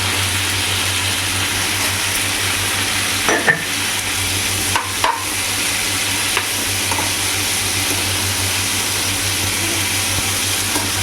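Green chillies with salt sautéing lightly in a pan: a steady hissing sizzle under a low constant hum, with a few brief stirring scrapes, close and without talk.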